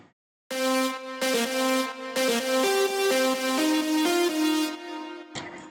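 A bright Nexus "Guitar Fuse" synth lead preset plays a melodic phrase of sustained, buzzy notes with short gaps between them, loud and up close, alone without talking.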